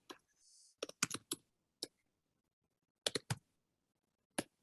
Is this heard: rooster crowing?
no